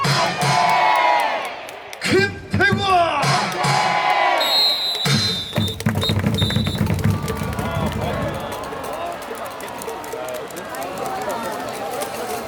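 A packed KIA Tigers baseball crowd chants a player's name in unison during a home game, loud and close, with bursts of cheering and a cheerleader's amplified voice leading over the rhythmic chant.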